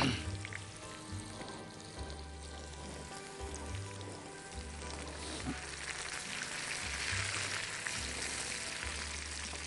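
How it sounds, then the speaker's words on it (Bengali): Chopped onions, about half a cup, frying in hot oil while chicken haleem is prepared, giving a steady, rain-like sizzle that runs the whole time with a low rhythmic hum underneath. "আমাদের তেলটাও গরম হয়ে গেছে, এখন আমরা পেঁয়াজ কুচিগুলো এখানে দিয়ে দিব।"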